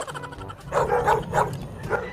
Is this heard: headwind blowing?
no